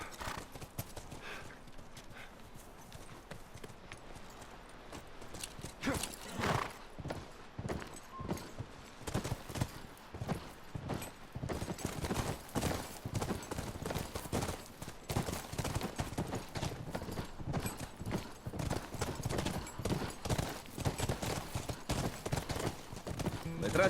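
Horses walking in The Last of Us video game, a steady run of clip-clop hoof strikes with an occasional whinny, continuous and fairly close, with game dialogue around them.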